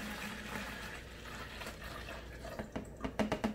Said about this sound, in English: let me take this and pour it into my fermenter right here